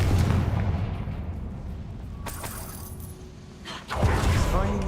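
The Confringo fire spell in the video game Hogwarts Legacy goes off as sharp booming blasts, one near the middle and another near the end, over a rumbling game soundscape.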